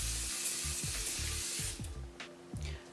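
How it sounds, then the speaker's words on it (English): A steady, airy hiss of a fine mist of thermal water setting spray runs through most of the clip, with a few short pumps toward the end. "I'm just going to use a little bit more of the thermal water as a setting spray."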